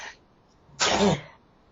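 A single short, sharp sneeze from a person with a cold bursts out close to the microphone in an otherwise quiet moment, preceded by a faint breath.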